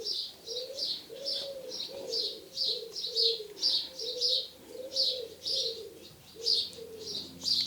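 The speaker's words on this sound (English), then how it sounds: "Can you hear the wood pigeons?" Wood pigeons coo steadily in soft, repeating phrases outdoors in the sun, mixed with lighter bird chirps throughout.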